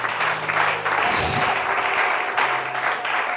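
A church congregation claps together in a steady, dense wash of applause that fills the space and carries on for several seconds, with faint voices beneath.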